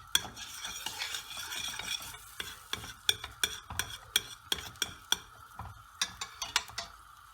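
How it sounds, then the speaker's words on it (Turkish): Chicken soup is stirred in a pot with a utensil, a close series of light clinks and scrapes in an uneven rhythm over a faint low simmer, with no talking. "Böyle karıştırıyoruz"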